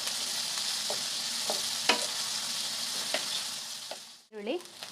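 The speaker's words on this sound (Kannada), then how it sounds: "ಈರುಳ್ಳಿನ ನಾವು ಬ್ರೌನಿಶ್ ಆಗೋ ತನಕ ಚೆನ್ನಾಗಿ ಫ್ರೈ ಮಾಡೋಣ" Onions frying in a pan for a chicken gravy masala, with a soft continuous sizzle, a few spoon taps and stirs, and a brief scrape near the end.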